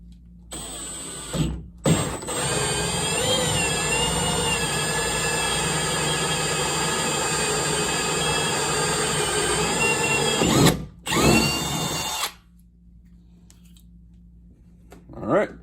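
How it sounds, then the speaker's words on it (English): A 1 3/8 inch hole saw bit drills into PVC pipe for a kayak GoPro mount. A power drill whines steadily for about nine seconds at close range, with brief motor bursts before and after, and no speech. "so we're going to go ahead and start drilling that."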